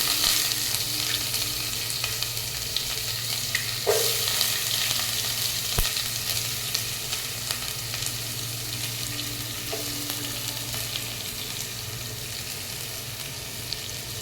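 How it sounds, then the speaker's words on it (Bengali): Onions and potatoes fry in oil for a fish curry with a continuous bright, hissing sizzle, steady throughout, with a couple of faint stirring knocks and no voices. "আলু পেঁয়াজটা আমি সবসময় একসাথেই দিই, কারণ আলু পেঁয়াজটা একসাথেই ভাজা ভাজা করে নিই"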